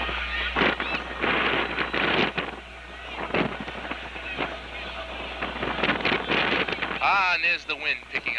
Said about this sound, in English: And there's the wind picking up again.